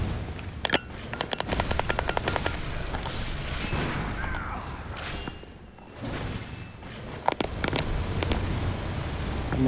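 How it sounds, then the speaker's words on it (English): A minigun fires in the video game Bloodborne, rapid bursts of gunfire with heavy thuds and booms breaking out in clusters over a noisy battle background, with no talk over it. "The minigun is sweet though."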